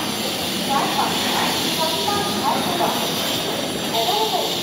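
A running train on a trip to Balasore fills the carriage with loud, continuous rumble and rushing hiss, steady throughout with faint voices buried in it.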